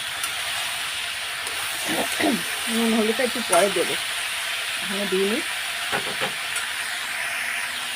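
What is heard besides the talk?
potatoes, carrot and green chilies frying in a pan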